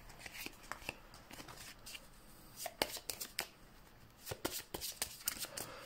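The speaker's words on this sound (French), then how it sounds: "On va faire un bon mélange, parce qu'on a quand même beaucoup de cartes." A large deck of cards is shuffled, giving a faint, quick patter of riffling snaps with scattered sharper flicks throughout, quiet and close, with no voice over it.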